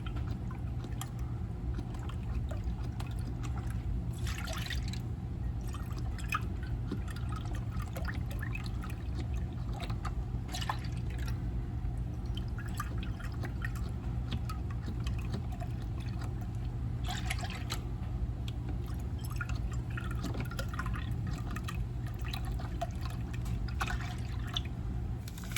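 Milk trickles and pours into a measuring cup for sugar-free butterscotch pudding, a soft continuous liquid stream with occasional splashy bursts, faint beneath a steady room hum and no talking.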